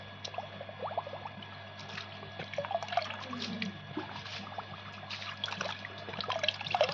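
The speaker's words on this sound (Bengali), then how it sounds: "দেখতে পাচ্ছেন যে জলটা ভরে নিচ্ছি।" Water trickling and splashing as it is filled into a plastic bottle for mixing a fungicide spray, a steady close dribble with small drips over a constant low hum.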